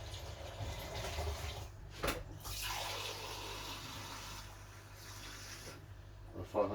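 Water pouring into a bottle to make homemade CO2 for a planted aquarium, a soft steady gurgling stream with a brief knock partway through, faint and fairly close.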